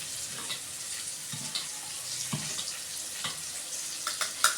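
A spicy fish curry mixture for meen kulambu stirred with a ladle in a cooking pot, a low steady sizzle with soft recurring scrapes and thuds of the ladle, close and unaccompanied by speech.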